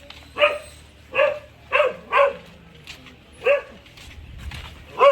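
A dog barks six or seven times in short, evenly spaced bursts, fairly close and loud against a quiet background, with no one talking.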